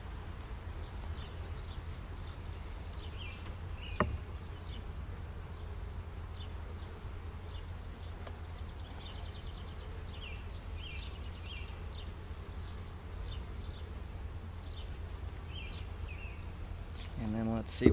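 Honeybees hum steadily around an opened hive during an inspection, a constant close buzz with faint voices now and then.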